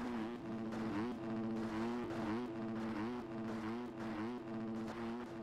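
Yamaha 250F motocross bike engine in the MX Bikes racing game, revving loud and close with a steady high-pitched buzz that rises and dips in rhythmic waves as the throttle eases off and picks back up.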